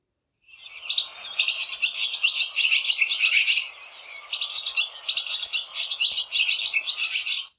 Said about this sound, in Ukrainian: Ось послухайте спів ластівки.